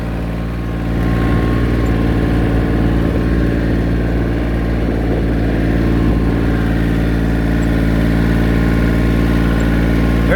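An old John Deere tractor engine runs steadily throughout a ride around a rural property, a loud, close, even low rumble with constant harmonic drone and no talk.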